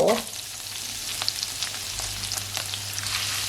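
Diced onion frying in butter in a pan, giving a steady close sizzle with faint crackles and a brief stir at the start, with no one talking.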